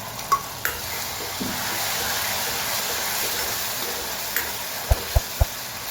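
Tomato puree sizzles in a pan with a steady, close hiss, broken by a few scrapes of a spoon stirring and three quick, soft knocks near the end.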